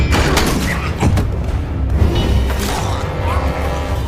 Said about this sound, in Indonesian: Namun dengan ledakan yang dibuat Jack, ia memanfaatkan hal tersebut untuk mulai menyerang.